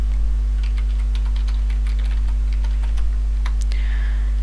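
Typing a folder name on a computer keyboard, a quick run of light, irregular key clicks over a steady electrical hum, close and fairly clear, with no talking.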